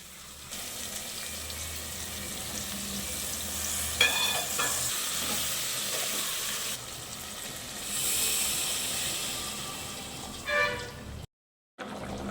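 Curry sizzling and frying in a pan with salt while being stirred, a continuous close hiss with occasional scraping sweeps of the spoon and a short gap near the end, no talking.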